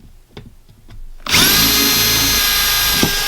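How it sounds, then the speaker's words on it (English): Power drill boring holes through a metal canister for threaded barbs, starting abruptly after quiet handling and running as a loud, steady high-pitched whine for about two seconds with no talk. "we need to make holes another 180 degrees on both sides for the"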